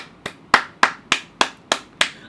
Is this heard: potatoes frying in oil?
no